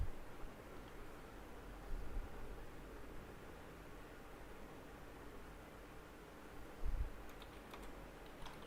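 Soft typing on a computer keyboard in a quiet room, faint scattered keystrokes with a couple of slightly louder bumps over a low steady background hiss.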